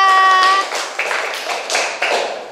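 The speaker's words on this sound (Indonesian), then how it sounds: "Oke, kasih tepuk tangan." Schoolchildren in a primary classroom clap their hands together for a correct answer, a few loose, rhythmic rounds of claps following a brief sustained tone at the start.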